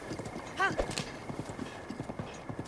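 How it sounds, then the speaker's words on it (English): A horse in Breath of the Wild clip-clops at a steady walk with a brief whinny, the hoofbeats running soft beneath a person talking. "there's apparently like a Ganondorf horse"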